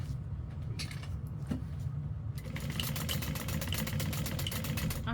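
A sewing machine stitches a trick-or-treat bag with a low, continuous mechanical whir, giving way to a faster, rapid pulsing run in the second half, with no voices.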